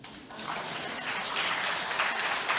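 A congregation at a Sunday religious service applauding, the clapping swelling after a quiet start and holding steady, moderately distant, with some voices underneath.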